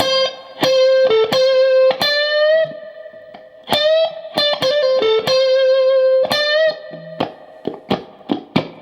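A distorted electric guitar solo in a blues style, single-note phrases with bends and held notes, played loud and close with a brief pause midway.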